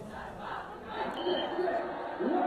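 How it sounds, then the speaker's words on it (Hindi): A large crowd at an airport awaits the Team India World Cup victory parade, with many voices cheering and shouting in waves that swell and fade, loud and steady throughout. "हजारों लोगों की भीड़ जुटी है एयरपोर्ट पर"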